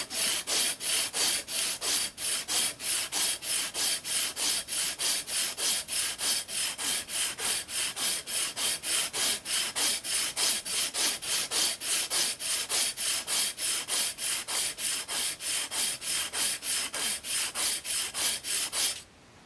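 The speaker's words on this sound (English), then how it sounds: "I can just get this material sanded down just so it blends right in with the frame" Steady back-and-forth sanding or filing on the steel backstrap of a 1911 pistol frame held in a vise, blending fitted material into the frame; a fast, even rasping rhythm of many strokes runs continuously and close, with no talk.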